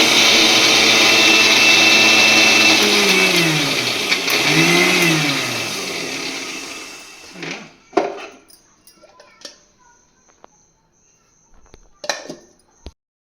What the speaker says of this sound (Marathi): तर हे मिक्सरला बारीक वाटण करून घ्यायचे भाजीसाठी